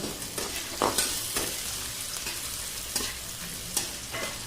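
Onion frying in a pan with a ginger, garlic and coconut paste, a dense close sizzle broken by repeated scraping stirs at irregular intervals.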